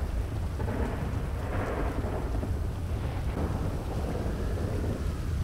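A thunderstorm in the GTA 5 video game, with a continuous heavy wash of rain and low rumbling thunder swelling and fading throughout, steady and fairly loud with no voices.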